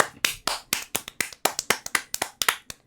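Hands clap in a fast, uneven string of about sixteen sharp, crisp slaps, close and loud, with no voices over them.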